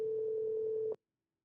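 Steady electronic ringback tone from an outgoing call placed on a DialPad softphone, a single continuous pulsing tone lasting about a second before cutting off abruptly into silence.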